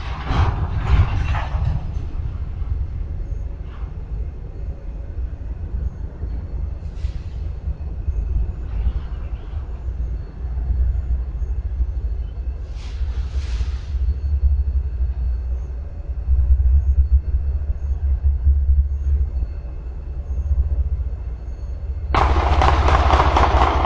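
A steady low rumble of a train passing at a distance, captured on a surveillance recording in Baton Rouge, heavy and continuous, with a few faint higher bursts and a louder rush near the end.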